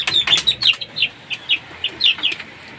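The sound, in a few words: native chicken chicks chirping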